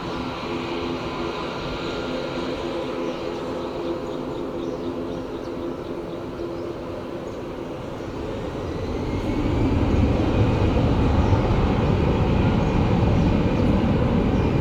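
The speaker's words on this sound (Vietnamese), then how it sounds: "Còn bây giờ thì chúng ta đang tới với một chiếc Airbus A320 của hãng không Vietjet. Chiếc máy bay đang nhanh chóng tiến lên đường băng 25 trái." Vietjet Airbus A320 taxiing onto runway 25L at Saigon, a steady engine roar that swells louder partway through, continuous and fairly near with no talk.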